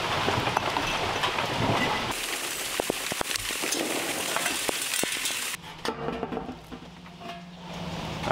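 Rain pattering outdoors beside a fire brick rocket stove build, a close, steady hiss of drops on surfaces with sharper taps, easing and thinning toward the end.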